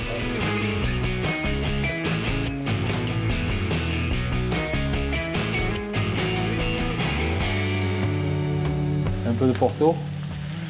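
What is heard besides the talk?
snails sautéing in a pan with persillade and shallots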